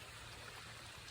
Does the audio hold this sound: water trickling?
yes